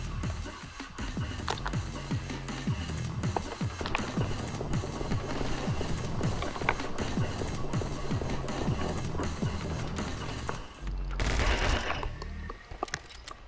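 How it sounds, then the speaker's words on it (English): Rapid, dense gunfire from the video game My Friend Pedro, a steady run of close shots and fast action effects from start to finish, with a louder burst near the end. "How do you get so many shots? Do you have a submachine gun or something?"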